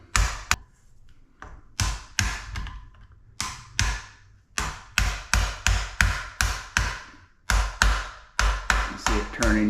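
A screwdriver taps sharply on a toilet fill valve, dozens of quick metallic knocks in irregular clusters, loud and close with no talking.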